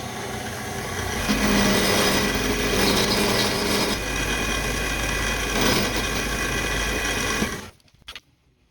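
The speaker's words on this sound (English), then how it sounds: "now I'm going to shave them down to the line on the mill." A milling machine shaves wooden keyless tuner parts down to a marked line, giving a loud, continuous grinding whine with a brief surge midway before the cut stops abruptly near the end, leaving a few faint clicks.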